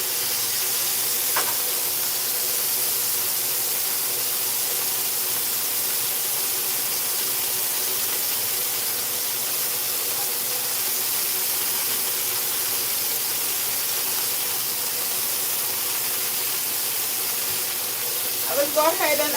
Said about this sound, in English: Just give them some time to sear properly for 3 minutes or more